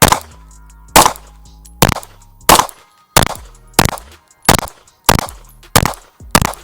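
Ten sharp pistol shots from a Staccato P ring out at an outdoor range, fired at a slow, fairly even pace roughly every 0.6 to 0.7 seconds, each a loud crack with a short decaying echo and no talking between them.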